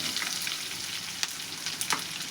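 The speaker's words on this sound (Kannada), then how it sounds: "ಎಣ್ಣೆ ಒಳಗೆ ಫ್ರೈ ಆಗಲೇ ರೀ ಉಳ್ಳಾಗಡ್ಡಿ" Chopped onions frying in hot oil in a pan, a dense close sizzle and crackle with a few soft stirring scrapes.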